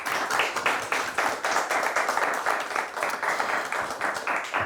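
A studio audience applauds quiz show winners after a final round, steady dense clapping from a crowd held at moderate level and fairly close, with no talk over it.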